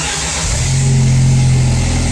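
A Jeep engine fitted with an aftermarket air conditioner fires up and runs, a loud, close, steady mechanical roar with a low rumbling drone and a slight rise in pitch as it settles.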